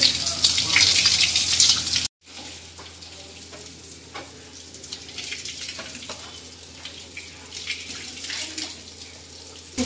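Hot spring water at Unhale near Rajapur, beside the Shri Mahalakshmi temple, flows in a steady broadband hiss. A short break cuts in early, then the rush settles into a softer, even stream up close.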